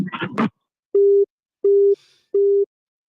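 A brief burst of voice gives way to a telephone busy signal: three loud, evenly spaced low beeps, each about a third of a second long, separated by silence.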